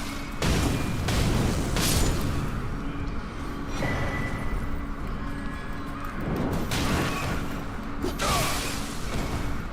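Dense, rumbling Elden Ring sound effects with repeated booming explosion bursts and whooshes layered over continuous noise, loud throughout with several sharp blasts.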